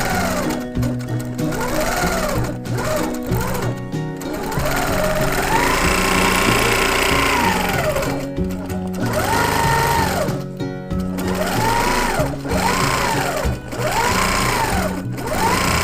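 A sewing machine stitches a quilt in a steady, loud, continuous whir, its pitch rising and falling in repeated swells as the speed changes, with no voices.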